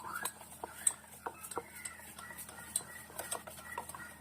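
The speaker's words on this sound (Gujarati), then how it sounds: "હવે એને આપણે 1 મિનિટ એક જ ડાયરેક્શનમાં હલાવી લઈશું" A utensil stirs bhajiya batter for whole-chilli fritters in a bowl, turning steadily in one direction, giving soft irregular clinks and scrapes at close range.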